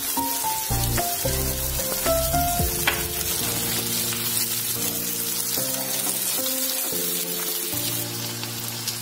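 Garlic scapes stirred together with eggs frying in a pan, a steady hiss of sizzling oil with scraping stir strokes over it, close and continuous with no one talking.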